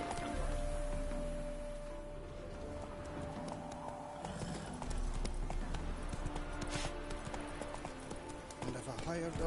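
Roach the horse's hooves clip-clop in a Witcher video game, a steady trotting rhythm under game music, with voices speaking over it.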